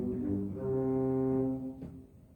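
A short happy motif from a Bach chorale prelude, about half a measure long, is played as sustained, full harmonic chords that swell and hold for about two seconds, then fade, with no voices.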